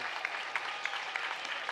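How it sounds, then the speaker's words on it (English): Crowd applause at a boys high school basketball game, Orono versus St. Louis Park, a fairly faint steady clapping from the stands with a few sharper claps standing out in a regular pattern. "a round of applause"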